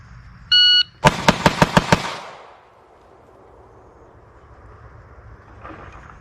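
A shot timer beeps, then a Taurus G3 pistol fires six rapid shots from the hip at a range target, loud and close, followed by fading echo and quiet.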